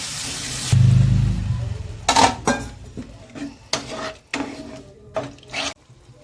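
Spices with chili powder, turmeric and salt frying in oil for a Bengali tangra fish curry, stirred in bursts: a spatula scraping and clinking against the pan with short hissing sizzles between quieter gaps.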